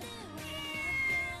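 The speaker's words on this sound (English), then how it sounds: "The messenger cat shook its head, then continued to dispassionately meow its report." A cat meows in a long, drawn-out tone that rises slightly and holds steady, fairly close and alone.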